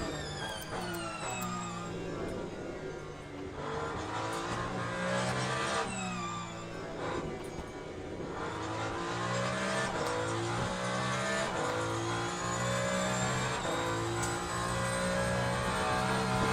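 Race car engine in the sim racing game Le Mans Ultimate on the Sebring circuit: steady loud engine drone that rises and falls through gear changes, continuous throughout with no voice.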